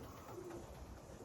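A blue bar racing pigeon returning to its New Zealand loft after a 120 km race gives a faint, soft coo against a steady low background hum, with no talking.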